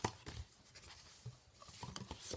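Cardboard box edges being folded by hand, scattered soft creases and papery scrapes in a quiet room, faint and irregular over a couple of seconds.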